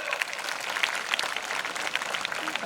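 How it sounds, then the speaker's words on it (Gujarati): A crowd claps steadily and briskly throughout, a dense patter of many hands at moderate loudness, at a school award ceremony for top students. "જોરદાર તાળીઓ"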